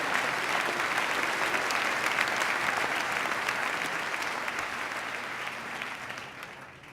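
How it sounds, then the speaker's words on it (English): An audience applauds Glens Falls at a governor's State of the State address, a dense, sustained burst of clapping that holds for several seconds, then slowly fades toward the end. "Give Glens Falls up. Don't have just Betty clap for Glens Falls."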